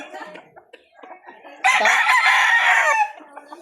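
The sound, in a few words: straight Sweater gamecock rooster crowing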